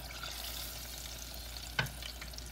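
Dogfish fillets fry in a hot pan, a soft continuous sizzle with a brief sharp tap of a utensil against the pan near the end, fairly quiet and close.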